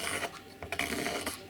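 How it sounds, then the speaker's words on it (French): Pencil scratching a circle onto old, used envelope paper, a close dry rasping rub in short continuous strokes with slight pauses. "Je trace un cercle"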